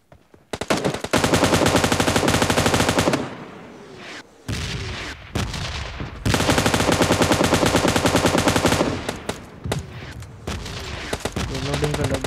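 Rapid automatic gunfire in PUBG Mobile Lite comes in long loud sustained bursts, broken by short pauses and a few single shots, with brief talk underneath.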